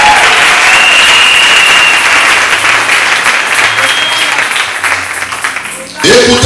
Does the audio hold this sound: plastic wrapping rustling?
no